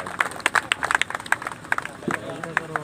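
Scattered applause rises from a crowd at a Congress party gathering in Gonda district, welcoming leaders, sharp claps overlapping unevenly with a murmur of voices in the background.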